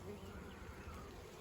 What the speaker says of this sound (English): Here's a drone. It's a male bee. The rest of these are workers.